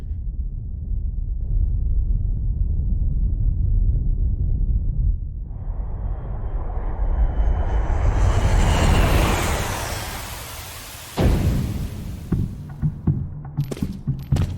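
A dropship's engines roar as it comes in to land in the video game Gungrave GORE: a deep rumble swells into a broad whooshing roar, then cuts off sharply, followed by scattered short clicks and thumps.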